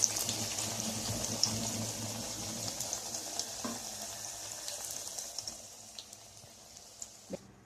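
Slices of eggplant dipped in batter sizzle in hot oil for beguni, a steady soft crackling hiss running throughout with small pops, fairly quiet and without voices.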